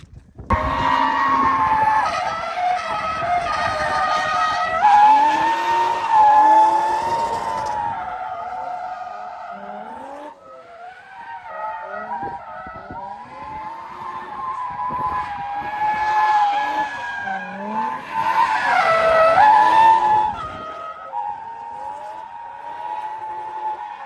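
A used drift car, a Nissan 240, drifts with tires skidding and squealing in long wailing bursts over a rising and falling engine roar, loud and near, with a brief lull midway.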